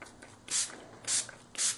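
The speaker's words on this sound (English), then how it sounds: "I'm just going to get a scrap piece of paper and just spray this guy" Three short hissing bursts from a can of shimmer spray onto paper, evenly spaced with brief pauses between, close by and fairly loud.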